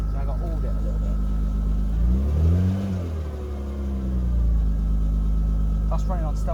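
A Rover 800 that has sat unused for a long time runs on stale fuel, a steady mid-pitched engine note rising into a brief rev near the middle and then settling back to idle, with a voice talking faintly over it.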